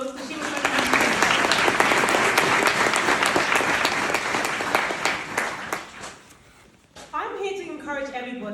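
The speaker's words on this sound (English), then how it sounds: "Can we give her a round of applause?" Audience applause at an awards evening, dense sustained clapping from a sizable crowd that fades out after several seconds before a speaker begins talking.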